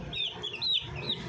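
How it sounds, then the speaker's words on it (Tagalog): Plymouth Rock and Jersey Giant cross chicks give repeated high, thin peeping chirps, several overlapping calls over a low background rumble, fairly close and steady. "pero itong mga bulik ay Jersey at Plymouth Rock."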